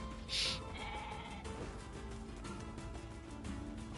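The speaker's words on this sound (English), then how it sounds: "Or it's probably a ram, actually, not a goat." A ram, a big mountain sheep in the video game NieR, lets out one loud bleat early on, followed by quieter game ambience.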